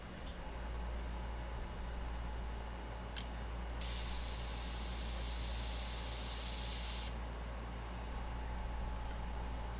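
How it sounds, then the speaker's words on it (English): An airbrush spraying paint for custom skull artwork, a steady hiss that swells into a loud burst of about three seconds before falling back, alone over a low hum. "you let that natural kind of soft spray go to the edges"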